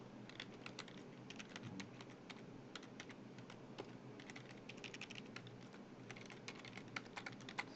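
Steady, quiet clatter of keys as a name is typed on a computer keyboard, fast irregular taps running throughout with no talk.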